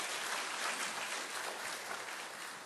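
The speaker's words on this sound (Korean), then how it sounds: "뜨겁게 박수 해주시면 감사하겠습니다" Applause from a church congregation at an Alpha course eighth-cohort graduation ceremony: a steady, even wash of clapping heard at a distance and fairly quiet, with no voices over it.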